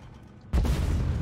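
A single anti-tank round fired from a tank's main gun in the Armored Warfare video game: one sudden loud boom after a quiet moment, followed by a sustained, heavy rumbling roar that stays loud to the end.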